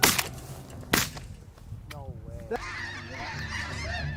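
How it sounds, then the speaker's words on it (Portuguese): A flock of snow geese honks in a dense overlapping chorus that builds in the second half. Sharp gunshot-like cracks from a hunt burst out near the start, and a voice briefly calls through the middle. "Veja como caçadores habilidosos abatem um bando de gansos das neves."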